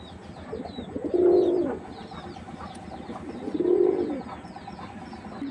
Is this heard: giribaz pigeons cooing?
yes